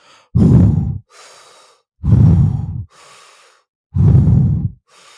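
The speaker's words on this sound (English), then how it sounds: "inhaling fully and exhaling fully for 30 breaths" Three slow cycles of deep Wim Hof method breathing, each a loud, full inhale followed by a softer, longer exhale, close to the microphone with short pauses between breaths and no talking.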